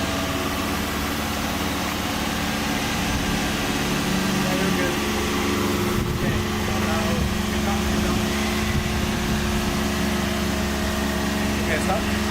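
Engine of a high-mileage project car with 320,000 miles running steadily as it is driven slowly onto a trailer ramp, a continuous low hum and idle-like drone under nearby voices giving directions.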